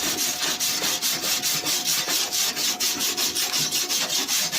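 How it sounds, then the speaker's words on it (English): A weld on a Ford Cortina car wing is ground back, giving a steady run of close, rhythmic rasping strokes of abrasive on metal, with no voices. "I'll grind it back."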